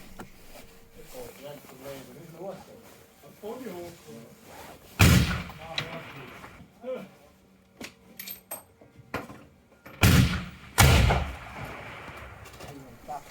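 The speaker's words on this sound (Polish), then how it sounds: "A tutaj ja będę próbował oddać strzał." Rifle shots crack at a 300 m sport shooting range in Switzerland, fired through a diopter sight without optics; a few loud, sharp reports, two in quick succession near the end, with nearby talk between them.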